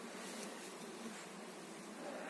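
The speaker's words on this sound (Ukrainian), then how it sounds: "бджоли вже і пилок несуть" Honey bees buzz steadily around a hive entrance in the early morning as they return carrying pollen, a faint, continuous hum with no voices.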